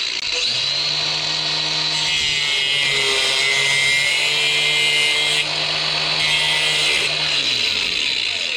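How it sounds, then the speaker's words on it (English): An angle grinder cuts a nut off a pipe during an oil boiler install, a continuous loud high whine with a droning motor tone that dips and shifts pitch as the disc bites, running steadily throughout. "I'm going to have to cut it off with the angle grinder"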